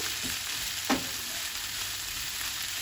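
Sliced onions and bell peppers sizzle softly in a pan over medium heat for a Greek pepper pie, a steady close hiss broken once by a brief clack of a utensil.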